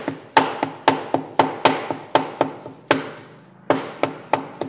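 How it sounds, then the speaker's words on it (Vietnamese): A knife minces pork belly on a wooden board for Vietnamese spring roll filling, a loud, close series of sharp chopping thuds in an irregular quick rhythm with brief pauses, no voices. "Rồi thịt lợn ba chỉ thôi các bác, băm nhỏ vào."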